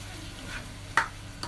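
Onion, black pepper, garlic and ginger stirred in a pot for Gambian white benachin rice, a soft sizzle under a couple of quick scraping stir strokes, one sharp clink near the middle, close.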